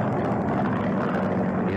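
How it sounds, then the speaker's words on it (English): A tiny single-engine plane drones through a ferocious thunderstorm, a loud, steady, rumbling engine roar with a buffeting wash of noise and no speech. "His tiny single-engine plane is being buffeted without mercy by a ferocious thunderstorm."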